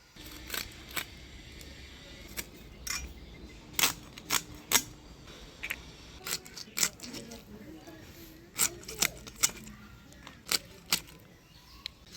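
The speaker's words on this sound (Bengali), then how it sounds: "গোটা মাছ অনেকদিন ধরে কাটি না, আজকে আবার কাটলাম" A whole katla fish being cut at home, with scattered sharp knife scrapes and chopping clicks over quiet background, some bursts louder, irregular in rhythm.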